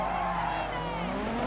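A brief handbrake skid in the racing video game Dirt 3, a loud continuous tire squeal over a roaring engine, sustained without a break for a second and a half.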